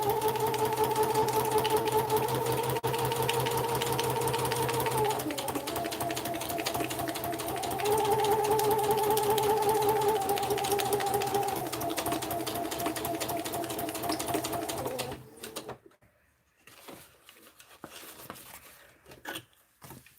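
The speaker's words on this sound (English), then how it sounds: "So I'm just gonna sew down this edge" A sewing machine stitches down a pocket edge, a steady close whirring hum with shifting motor pitch for about fifteen seconds before it stops and leaves quiet handling noises.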